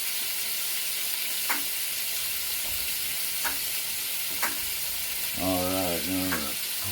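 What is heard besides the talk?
bacon sizzling while frying in a pan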